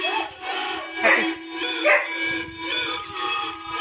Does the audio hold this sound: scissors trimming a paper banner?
no